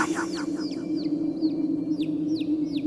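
Chickens cluck in a series of short, repeated calls against a steady low hum, fairly close and continuous throughout.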